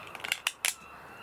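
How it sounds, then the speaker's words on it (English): A cutting tool trims overflowing resin from both sides of a cast piece in a mold, giving two or three short, crisp snips close by, with no talking. "So if I just trim that on both sides"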